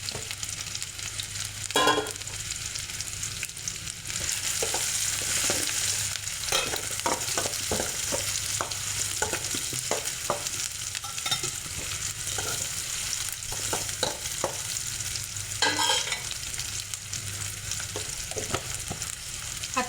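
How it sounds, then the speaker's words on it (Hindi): Onions fry in oil for a dhaba-style moong dal tadka, giving a dense continuous sizzle with repeated light scraping strokes of a stirring spoon. "लाइट पिंक कलर आने तक हम प्याज को पकाएंगे।"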